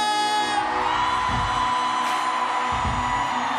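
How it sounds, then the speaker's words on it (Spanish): Concert audience shouting and cheering in a loud, steady crowd roar at a show in Colombia, with scattered whoops over sustained music and applause. "Y un grito por Colombia"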